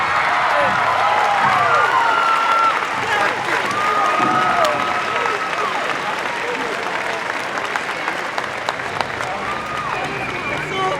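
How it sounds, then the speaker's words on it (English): Audience applause and cheering for CrossFit competitors and top teams at the 2018 Central Regional team competition, a steady, loud crowd roar that lasts throughout with a voice over a PA system. "big round of applause for all your competitors and a big round of applause for your top 5 teams."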